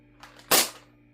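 A Nerf N-Strike Maverick fires a suction cup dart at close range: one sharp, loud pop-thwack that fades quickly, preceded by a couple of faint mechanical clicks from the blaster.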